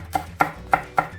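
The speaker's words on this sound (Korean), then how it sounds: "그리고 홍고추는 고명으로 들어가니까 어스어스 썰겠습니다." A knife slicing red chili pepper on a cutting board, four crisp, evenly spaced chops in just over a second, close and clear with no talking.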